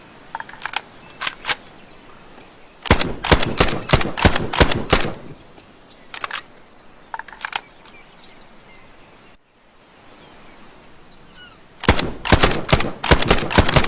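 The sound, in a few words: homemade carbine rifle sound effect firing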